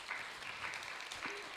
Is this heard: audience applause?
yes